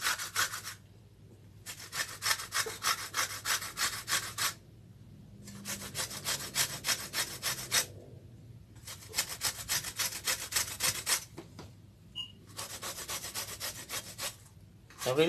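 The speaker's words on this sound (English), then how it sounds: "here I'm going to do my lemon zest there. I'm going to grate it in it." Lemon zest is grated for an apple cake in five rhythmic bursts of scraping strokes, each a few seconds long and close up, separated by short pauses.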